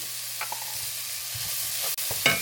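Minced garlic, red pepper flakes, Italian seasoning and vegetables sautéing in a pan over lowered heat, a quiet steady sizzle with a few brief scrapes and taps, close by and without voices.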